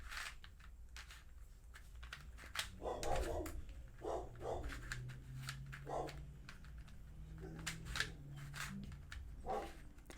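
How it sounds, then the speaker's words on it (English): A pet dog barks indoors in a few scattered, moderately loud bursts, mixed with clicking and rustling of a 3D-printed puzzle cube being handled nearby. "So my dog is barking"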